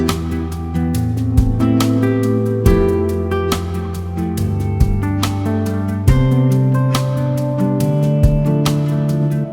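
The main drum pattern runs through the B section of an arrangement over sustained chordal accompaniment, a steady repeating groove with periodic accented hits, loud and close with no talking.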